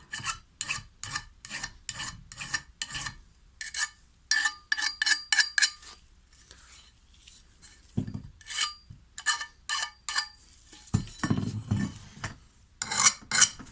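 A worn, blunt hand file rasps across a metal brush cutter blade in rapid rhythmic strokes, close up, with bursts of scraping separated by brief pauses and a few clinks of metal.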